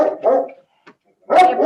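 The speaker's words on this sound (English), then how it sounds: "I apologize for my dog." A dog barks a few times nearby in the middle of a courtroom hearing round, the loud harsh barks coming in two bursts separated by a short quiet gap.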